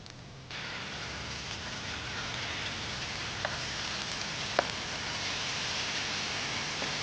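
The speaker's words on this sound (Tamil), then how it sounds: "இஞ்சி பூண்டு பேஸ்ட் போட்டாச்சு. இது நல்லா பொன்னிறமாக நல்லா வதக்கணும்." Ginger garlic paste sizzling and frying in a pan after onions for chicken mandi, a steady broadband hiss from start to end with a couple of brief pops, close and even, with no talking.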